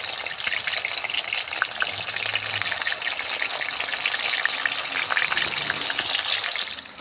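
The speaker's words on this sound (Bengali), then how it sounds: "কড়াই গরম তেলে আমরা ছেড়ে দেবো এক একটা করে। এটাকে ভালো করে ভেজে নিতে হবে।" Pieces fry in hot oil in a kadai, giving a steady close sizzle and bubbling that runs unbroken throughout, with no voices.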